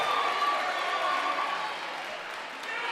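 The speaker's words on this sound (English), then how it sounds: "hearing it from the Osawatomie crowd" Osawatomie crowd at a girls sub-state high school basketball game cheering and applauding in a gym, a steady loud roar of voices and clapping throughout, easing slightly toward the end.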